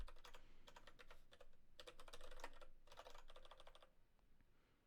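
Rapid, bursty typing on a computer keyboard while working on a reinforcement learning coding example: fast clusters of close key clicks with short pauses between bursts, fairly quiet, with no talking.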